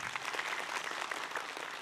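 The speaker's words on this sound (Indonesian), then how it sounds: "tepuk tangan dulu yuk" An audience at an Islamic lecture claps in applause, a dense, moderately loud patter of many hands lasting the whole short stretch without speech.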